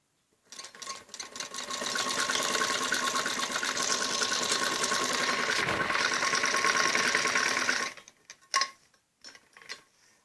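A sewing machine stitches a strip onto a kameez neck, running in one steady close whirring burst for several seconds and then stopping, followed by a few brief clicks and short restarts.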